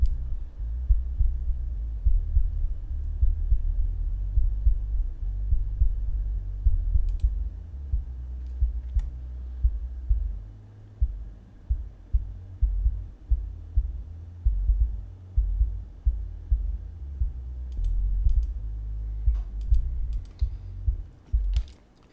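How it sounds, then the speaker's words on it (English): Low end of a kick drum and bass guitar filtered to 50 Hz and below: a dull, muffled throbbing rumble with soft repeated thumps, steady and alone. "you can hear it's just the low end of the kick and the low end of the bass"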